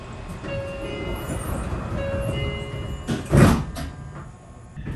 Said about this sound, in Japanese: 名鉄岐阜駅を発車。